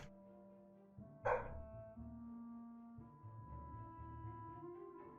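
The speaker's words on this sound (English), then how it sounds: "I swear, this dog is going crazy." A dog in a video game scene gives one sharp bark partway through, heard over a low droning musical background.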